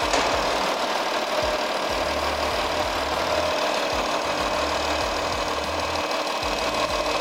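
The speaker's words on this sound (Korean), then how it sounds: "엔진 소리 일정하고 좋습니다." A Volkswagen Touareg V6 3.0 TDI diesel SUV engine idles nearby with a steady, knocking clatter, loud and even, with no voices.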